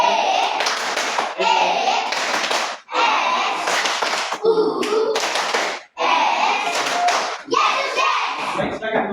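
Children in a Catholic school religion lesson at St. Yakobus Merauke clap the 'Tepuk Yesus' routine together, rhythmic bursts of hand claps in groups separated by short pauses, loud and close.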